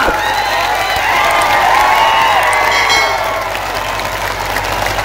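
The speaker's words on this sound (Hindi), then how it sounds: "अपनी तालियों को थोड़ी घनीभूत कर दीजिएगा" Large audience at a Ram Navami religious assembly in Mudkhed, clapping loudly and steadily with scattered cheers and shouts, a continuous dense crowd roar for the whole stretch.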